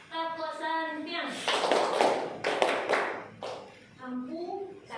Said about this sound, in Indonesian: Oke, kita tepuk santian ya Bapak Ibu.